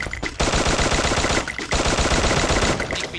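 Rapid automatic gunfire in the Free Fire video game, loud and close, rattling in long sustained bursts broken by two short pauses.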